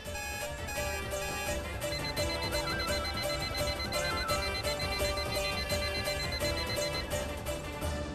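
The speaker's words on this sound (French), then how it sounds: "Mais qui a pu mettre autant d'alarmes dans cette chambre, bon sang?" Several alarm clocks in a bedroom ring at once, a loud, steady, overlapping electronic beeping that continues unbroken throughout.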